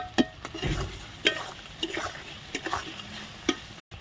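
Spice paste with turmeric and salt being fried and stirred in a pan for a tomato fish curry, soft sizzling under scattered scrapes and clicks of a spoon against the pan, fairly quiet and close.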